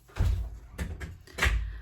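A door that was not fully closed shifting and knocking in a small studio, three soft, low thuds about half a second apart, close and moderately loud, with no voices.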